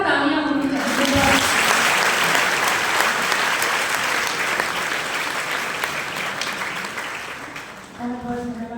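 A large audience gives loud, sustained applause for poet Hariom Pawar at an Independence Day poetry event at Meerut College, a dense wash of clapping lasting several seconds before tapering off as a voice returns.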